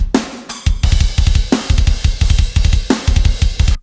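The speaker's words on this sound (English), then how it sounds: "These are live drums and they sound like this." A live drum kit recording with a punchy kick and snare in a quick repeating groove over steady hi-hat or cymbal hits, close and dry with no talking.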